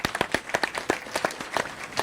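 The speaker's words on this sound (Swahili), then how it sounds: "Pigia Yesu makofi mazuri." A church congregation claps for Jesus during a service, a quick, fairly steady run of hand claps heard close, with no speech.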